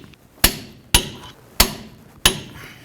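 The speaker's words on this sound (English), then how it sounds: "Torque these to 184 foot-pounds." A torque wrench tightens the front wheel bearing bolts of a 1988-2002 GMC Sierra 1500 to 184 foot-pounds, giving four sharp, evenly spaced metallic clicks close by, with no talk.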